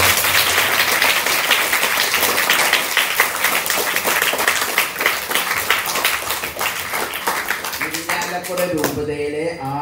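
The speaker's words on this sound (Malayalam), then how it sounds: "അതിനൊരു നല്ല കയ്യടി" Lively applause from a church assembly at St. Joseph's Church, Vellangallur, a dense wash of many hands clapping that tapers off as voices begin to be heard at the end.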